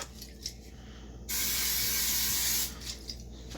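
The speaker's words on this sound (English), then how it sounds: "You take the cooking spray. You spray the pan." Cooking spray hisses into a pan in one steady burst of about a second and a half, loud and close, with quiet kitchen handling before and after.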